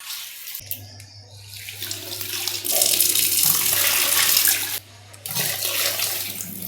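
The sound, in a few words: washing raw chicken under running tap water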